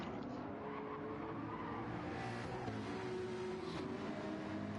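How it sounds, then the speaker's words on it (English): A McLaren GT3 race car in a racing video game runs steadily through a high-speed section of the Lake Maggiore track, its engine a continuous mid-loud drone with slight shifts in pitch and no talk over it. "McLaren looking a little loose there on the rumble strip as we go through another high-speed section of the track"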